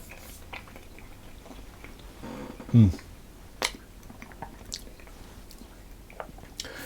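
A single crisp bite into a Black Forest Bakewell tart with chocolate frangipane and light, crumbly short pastry, followed by soft, close chewing and a few faint mouth clicks.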